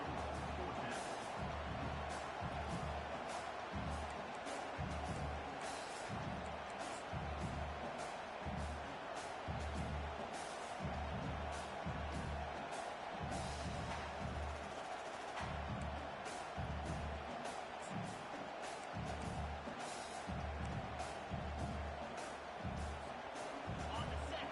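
Stadium crowd roaring in a college football video game with a Michigan dynasty: a dense, continuous wall of crowd noise with rhythmic low thumping, heard under a commentator's steady play-by-play talk.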